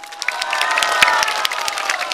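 An audience at a political talk show or public event claps together in brisk, dense applause with some cheering, loud and continuous, with no one speaking over it.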